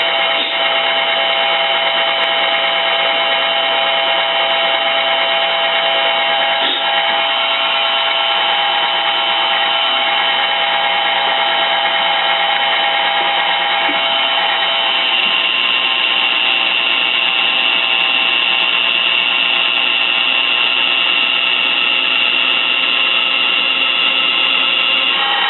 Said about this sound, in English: now I have my holes drilled